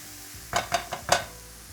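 Finely sliced garlic being stirred through a frying pan, four quick close scrapes and clacks of a utensil in a short burst over a low background sizzle, with no voices.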